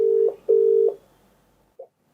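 A telephone call rings out on the line: two long steady tones, then a short blip, heard clearly and with no one speaking.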